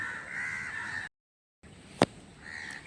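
Crows caw around the area at sunrise, a distant steady chorus of calls, cut by a brief silent gap, then one sharp nearby caw rising above the rest.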